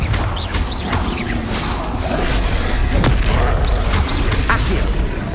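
Confringo blast spells exploding during Hogwarts Legacy combat, dense continuous booming and crashing with whooshing magic effects, loud and close throughout.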